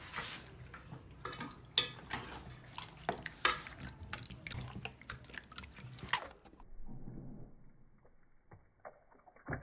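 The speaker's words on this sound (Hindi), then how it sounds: "ये देखिए, मैं इसको मिक्स कर देता हूँ।" Marinated chicken with spices for white karahi is mixed in a bowl, producing wet squelching, slaps and clinks of a utensil against the dish in irregular bursts, then quieter sticky sounds.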